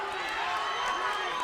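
A fight crowd at a title bout roars in a steady, dense wash of cheering, with a commentator's voice talking over it throughout.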